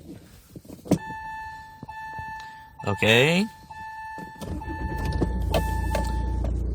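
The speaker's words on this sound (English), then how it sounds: "Let's start the engine." A 2008 Hyundai Santa Fe 2.2 diesel with automatic transmission cranks over and settles into a steady, rumbling idle heard from inside the cabin, after a brief warning chime and a few short words from a man.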